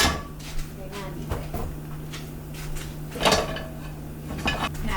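Cast-iron skillet being washed in a kitchen sink after frying pancakes with vegetable oil, giving scattered clanks and scrapes of metal against the basin over a steady low hum, with a voice talking now and then.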